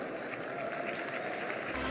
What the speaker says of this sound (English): please make an applaud for Omar Da Fonseca.